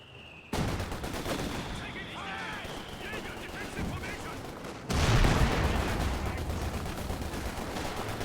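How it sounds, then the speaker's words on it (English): Comet tank gunfire in Company of Heroes 2 battle, a loud blast jumping in mid-clip over ongoing combat rumble, explosions and a whining engine tone, with a dense wash of battlefield noise throughout. "Comet firing off, missing."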